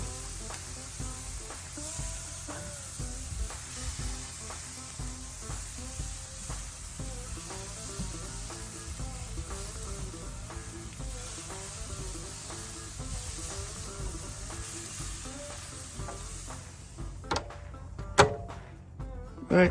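Venison cutlets sizzle on a Kamado Joe grill with a steady close crackle and hiss full of tiny pops, lasting nearly twenty seconds before a few louder clanks near the end.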